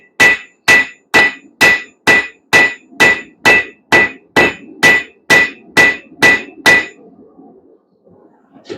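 A blacksmith hammers a hot square bar on an anvil to draw it out, about twelve evenly spaced ringing blows in a steady rhythm, loud and close, then the workshop goes quiet.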